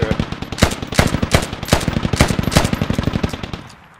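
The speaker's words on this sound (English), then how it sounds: "I'm shooting through that fence" Rapid automatic gunfire in the video game Squad, a dense, loud burst of evenly spaced shots sustained for about four seconds before tapering off, heard alone with no voices.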